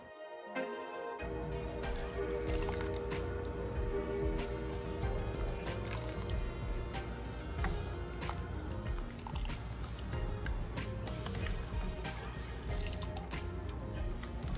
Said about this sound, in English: I transfer in a colander so it will drain also the water